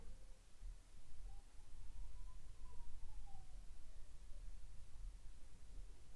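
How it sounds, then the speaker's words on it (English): Ambulance siren sound effect, a faint single wail rising and falling once in the distance under steady broadband hiss and low rumble, no voices. "The ambulance is on its way."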